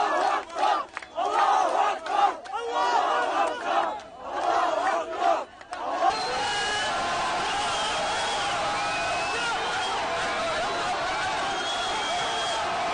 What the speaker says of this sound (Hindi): हर तरफ सीटियां, तालियां जो है वो बज रही हैं, और लब पर सिर्फ एक ही नाम, अल्लाहु अकबर, अल्लाहु अकबर के नारे